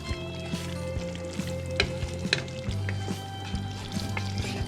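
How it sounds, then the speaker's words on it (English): Ground beef browns in a pan with beef broth, sizzling and crackling steadily up close, with occasional scrapes and taps of a utensil stirring through it. "Go ahead and finish browning your burger"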